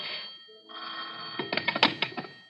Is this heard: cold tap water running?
no